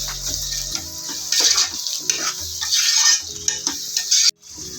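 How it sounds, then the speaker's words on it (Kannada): A prawn biryani mixture with biryani masala and curd is stirred in a pan, giving close scraping and stirring under a light sizzle before it stops abruptly. "ನೀಟಾಗಿ ಮಿಕ್ಸ್ ಮಾಡ್ಕೊಳ್ಳೋಣ."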